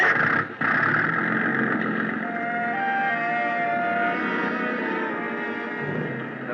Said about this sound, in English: The big gas engine took over where the wind dropped us